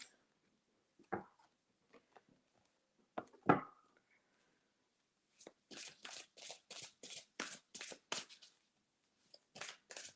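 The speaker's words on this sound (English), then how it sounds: "I love shuffling the Hedge Witch Tarot by Llewellyn" A Hedge Witch Tarot deck by Llewellyn shuffled briskly up close: a few scattered riffles and taps, then a rapid, rhythmic run of crisp flutters, with no talking.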